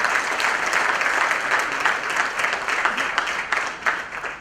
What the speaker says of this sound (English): One big round of applause for Vimal once again.